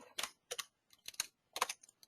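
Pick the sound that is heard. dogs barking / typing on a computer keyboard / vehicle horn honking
typing on a computer keyboard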